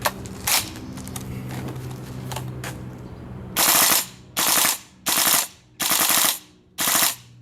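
GHK M4 gas blowback airsoft rifle with Devilhunter mod firing a second magazine: five loud rapid full-auto bursts close up, following a brief spoken word and a stretch of background hum with a few single pops.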